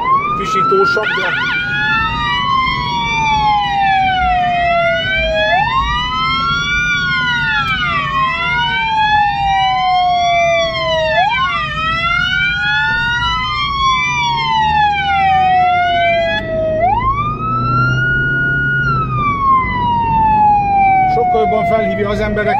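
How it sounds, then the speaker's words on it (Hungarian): Two-tone emergency vehicle siren on a rushing Budapest ambulance run, a lower base tone paired with a shriller second tone, both sweeping up and down continuously, loud and close for the whole stretch. "Majd dupla hangú szirénát használok, mint halljátok, szól egy alaphang"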